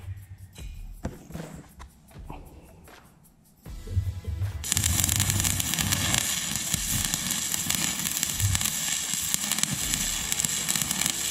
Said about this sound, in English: Let's see if we can weld a hole right through the plate.